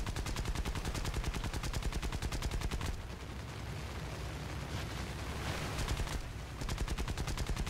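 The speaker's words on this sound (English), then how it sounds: "Broadside!" In War Thunder, rapid, loud gunfire pounds out in a fast regular stream, breaks into a rumbling wash of blasts, then resumes its steady rattling rhythm, with no voices over it.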